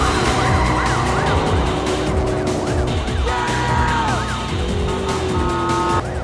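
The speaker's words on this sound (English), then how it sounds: "they race them with sirens and flashing lights and microphones" Police car sirens from the movie Fast Five wail and yelp over several vehicles' engine rumble, loud and dense, with rising and falling tones overlapping throughout.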